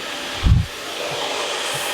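A hair dryer fitted with a nozzle blows steadily at close range with a continuous airy roar while styling hair, broken by a brief low thump from handling midway through.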